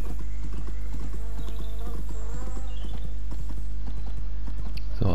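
Horse hooves clip-clop steadily in the My Little Riding Champion video game, a brisk, rhythmic clatter of footfalls over a constant low hum, with a short whinny-like sound partway through.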